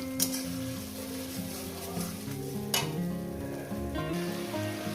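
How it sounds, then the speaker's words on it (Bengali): Spice masala paste sautéed in a pan, a quiet, even sizzle with faint stirring, accompanied by soft background music. "মশলাটা কষিয়ে নেব"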